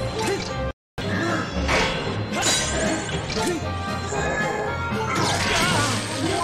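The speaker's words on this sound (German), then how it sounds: "Das Schild ist zerbrochen." A shield shattering in Zelda: Skyward Sword HD, a loud smashing crash with sharp whacks over busy game sounds, after a brief dropout.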